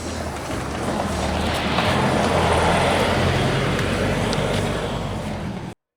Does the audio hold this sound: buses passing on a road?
yes